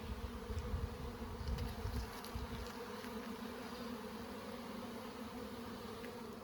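Honeybees buzz around an opened beehive during an inspection, a close, continuous drone with layered hum tones and a few louder passes near the start, no voices.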